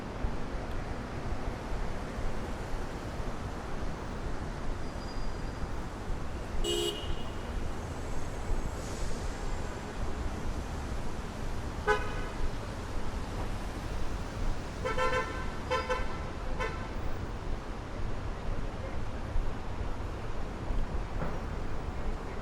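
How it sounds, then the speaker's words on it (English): Steady city traffic roar near the Brooklyn Bridge in New York City, with a few short car horn toots breaking through midway and toward the end, moderately distant and continuous. "Look at all that traffic on the Brooklyn Bridge."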